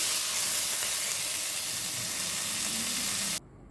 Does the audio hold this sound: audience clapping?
no